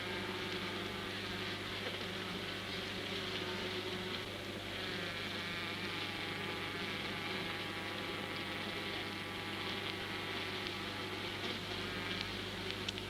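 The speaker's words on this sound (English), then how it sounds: "bees ventilate the hive by fanning their wings at its entrance" A dense, steady buzzing hum of honeybees fanning their wings at the hive entrance, continuous and even throughout, fairly soft with no talking.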